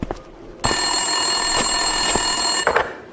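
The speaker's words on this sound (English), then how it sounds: "Winterson's phone was ringing." Telephone ringing at an office desk in the video game Max Payne 2, a loud steady electronic trill lasting about two seconds after a short quiet lead-in, heard alone without talk.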